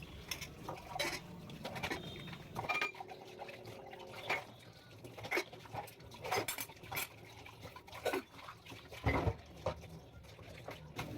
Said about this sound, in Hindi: उसके बाद ही मैं बर्तनों को अच्छे से खंगार के इसके ऊपर रखना स्टार्ट